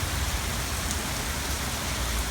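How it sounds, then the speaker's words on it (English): Rain falls steadily as a dense, even hiss of drops on surfaces, close and continuous throughout with no voices. "Now we finally got the rain."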